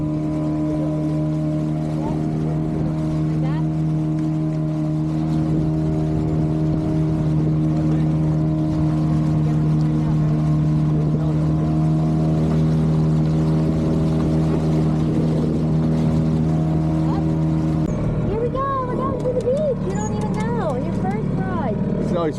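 An outboard motor pushes a small dinghy along on the water with a steady, close drone, and the note shifts and breaks up near the end as the boat bounces and turns.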